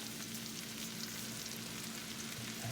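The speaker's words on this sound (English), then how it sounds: "we're just going to let this saute up until it's nice and brown" Mushrooms and onions with a pinch of salt sauté in a pan, giving a continuous soft sizzle with a low steady hum underneath, close but quiet.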